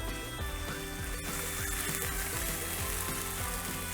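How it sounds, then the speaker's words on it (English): Sliced onion hits a very hot pan for beef chow mein, giving a loud, steady sizzle that holds for the full four seconds with no talking. "Next, I'm going to add half an onion sliced."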